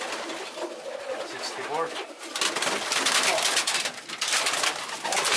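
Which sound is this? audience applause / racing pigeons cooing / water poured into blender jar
racing pigeons cooing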